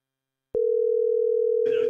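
A telephone call tone on an outgoing call sounds as one steady, unbroken electronic hum that starts abruptly and holds at an even level, with a person beginning to talk over it at the end.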